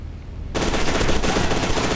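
Automatic gunfire in the shooter F.E.A.R. 2: Project Origin. It bursts in after a quiet half second as a loud, dense, continuous stream of rapid shots.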